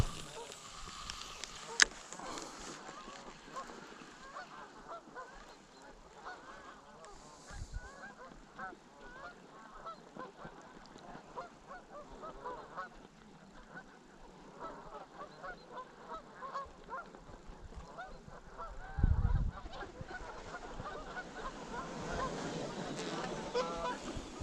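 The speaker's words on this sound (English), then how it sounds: "Canadian geese going over there." Canada geese honk as they fly over a reservoir, distant and faint, with scattered calls over a quiet outdoor background and a louder burst near the end.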